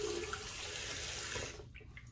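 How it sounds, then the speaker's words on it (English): Tap water running steadily into a sink while rinsing after a shave, a close hissing stream that cuts off near the end, leaving light splashes and drips. "let me just get rinsed up here and I'll be back in just a minute."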